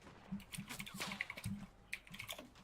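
Clicky computer keyboard typing rattles in quick, uneven bursts of sharp keystrokes throughout, close and fairly quiet, with a low hum beneath and no speech.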